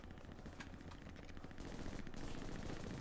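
Gunfire in the World War II shooter Hell Let Loose: a dense, continuous crackle of rifle and machine-gun shots, fairly distant, swelling louder over the last half, with no talking.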